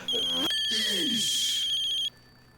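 A telephone rings in an office setting, its loud electronic trill running steadily for about a second and a half while a voice talks over it, then stopping abruptly.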